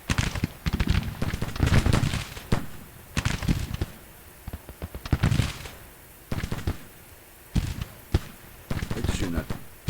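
Crackling rifle volleys ring out in a Civil War battle at Mobile, Alabama, in a strategy game, bursts of overlapping sharp shots in irregular clusters separated by brief lulls, loud and close, with talk at times.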